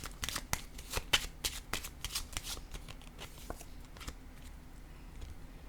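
A deck of cards being shuffled, a run of crisp riffling snaps and taps close by, fairly quiet, then trailing off with no speech.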